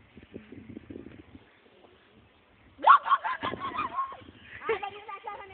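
Chickens clucking and squawking nearby, a quieter stretch of scattered calls and then a loud burst of honking, agitated cries, with no clear talk.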